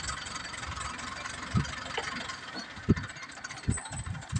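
A 555 tractor engine idles and runs steadily at the roadside while clearing dirt, a low continuous rumble with occasional knocks and thumps, medium distance, no talking.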